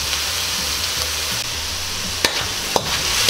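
Squid adobo with soy sauce being stirred in a pan gives a steady close sizzle with repeated scraping stirs, and two sharp utensil knocks come near the end.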